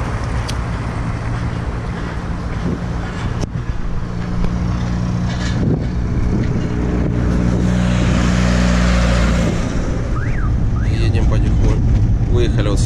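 A small bus drives through the city of Voronezh, giving a low, rumbling engine drone with road and wind noise from inside the cabin, steady throughout, while people talk over it.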